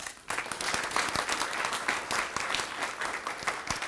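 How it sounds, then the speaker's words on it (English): A town hall audience claps for an award recipient, a steady burst of dense applause with sharp individual claps standing out, sustained throughout. "Give a round of applause."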